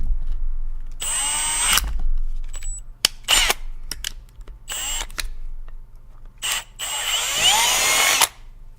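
Power drill run in several bursts through a pilot hole while rebuilding a hacked magnetic mount, with loud whining spurts of varying length, brief clicks and taps between them, and a steady low hum underneath.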